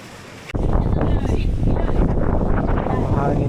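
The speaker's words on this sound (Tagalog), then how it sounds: "Mahangin dito." Strong seaside wind buffets the microphone in loud, continuous gusts after a sudden start, with faint voices underneath.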